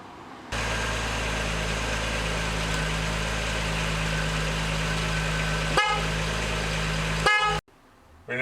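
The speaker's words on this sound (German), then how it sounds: "zum Entlüften müssen wir jetzt den Motor anlassen" An Audi 100 A6 C4 engine cranks and fires, then settles into a steady, loud, close idle with a low droning hum. Two brief sharp bursts break the idle before it cuts out near the end.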